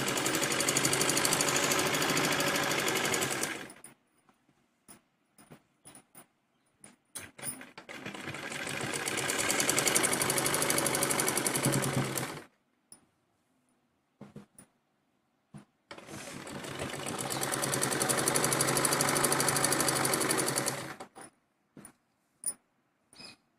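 A sewing machine stitches men's shorts in three long, even bursts, each running several seconds, separated by pauses filled with small clicks and fabric handling.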